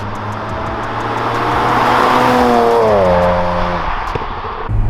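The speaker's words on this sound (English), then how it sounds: "all the noises it makes, blow-off valve, exhaust, variables, everything" A BMW 335i engine drones and rises in pitch under acceleration through its exhaust, then drops as revs fall, with a sharp blow-off valve whoosh near the end.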